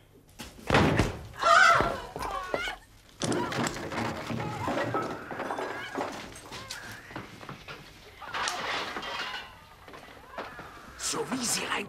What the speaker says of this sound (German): Los, tritt die Tür ein.